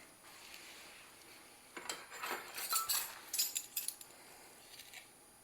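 A utensil clinking and scraping against a bowl while biscuit and waffle batter is mixed, quiet irregular metallic taps and stirring over a few seconds after a near-silent start.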